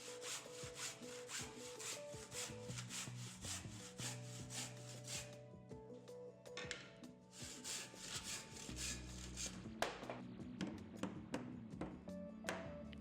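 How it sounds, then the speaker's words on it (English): Two wooden blocks cut by hand with a Stud Hook 90 saw, a steady run of close rasping strokes with a brief pause and some knocks partway through. "Again, using our stud hook 90, we'll cut these 2 blocks."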